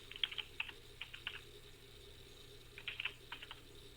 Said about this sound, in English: I'm just typing this stuff in real quick here to show you for an example